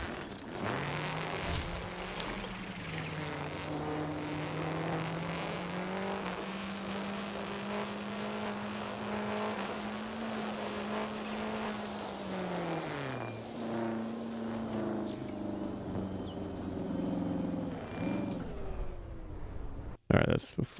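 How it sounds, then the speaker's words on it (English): An engine in the Trailmakers video game drones steadily with a buzzy, lawnmower-like tone, holding pitch for several seconds before dipping and settling, loud and continuous, with a voice talking over it. "This one just sounds like a lawnmower engine or something."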